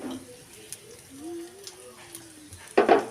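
Powdered coriander, cumin, dried chili and turmeric go into a pan of kohlrabi curry, giving a soft steady sizzle with faint stirring scrapes and a brief louder burst near the end, with faint voices in the background.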